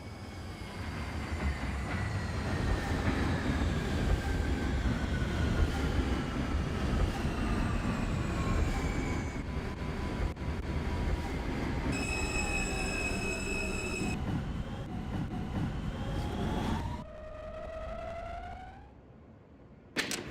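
An R160 subway train in the OpenBVE simulator runs along elevated track, with steady rumbling wheels and long, rising and falling wheel squeals throughout, a brief cluster of tonal beeps midway, and the motor whine winding down near the end.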